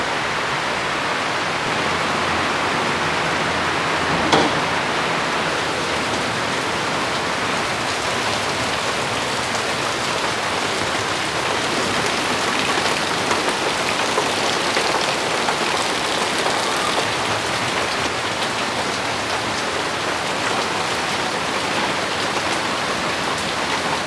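Steady, heavy rain pours down without pause in Bogura, Bangladesh, a dense hiss of drops drumming on surfaces close by, with no talking.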